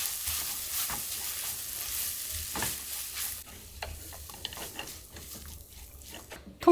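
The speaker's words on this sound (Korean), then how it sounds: "그래서 불을 켜서 살짝 한번 볶아도 돼요" Seasoned dried squid strips are stirred in a pan with a soft continuous sizzle, broken by intermittent scraping and tossing noises.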